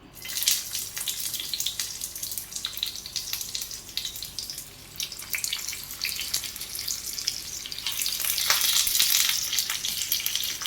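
Bitter gourd pieces laid into hot oil in a pan, producing a loud continuous sizzle and crackle that swells toward the end, with brief clinks as pieces are placed.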